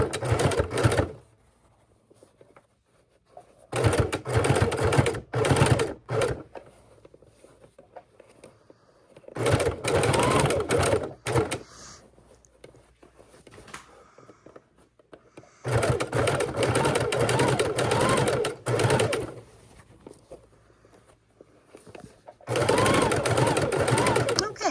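Sewing machine stitching binding onto a quilt, running at a slow, steady pace in several long bursts separated by pauses, close and fairly loud, with quiet stretches between runs.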